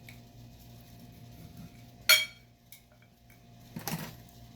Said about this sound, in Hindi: अब मैं कटिंग करके दिखाती हूँ आप लोगों को।